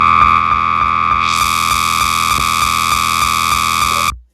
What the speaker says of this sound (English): I don't know if that distortion is helping or not